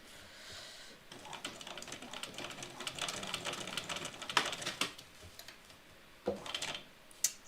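A sewing machine stitches through stiff waterproof canvas in uneven bursts of rapid needle clatter, starting and stopping with short pauses and a few sharper knocks, close and moderately loud.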